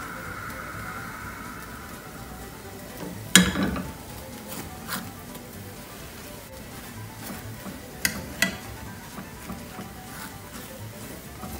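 Butter frying around a snack in a hot pan gives a low, steady sizzle, with a few clear utensil clinks and scrapes standing out above the soft crackle.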